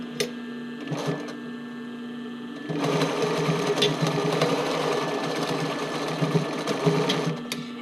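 A sewing machine stitches the criss-cross waistband of a sports bra, a short burst and pause, then a steady, close, continuous run of rapid mechanical chatter with a faint hum underneath.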